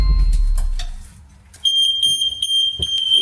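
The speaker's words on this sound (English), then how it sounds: "the next thing they'll probably ask is the interlink of smoke alarms" Interlinked smoke alarms in a house being set up as a multi-let property sound a loud, steady high-pitched beep that kicks in suddenly after a few soft knocks and handling noises.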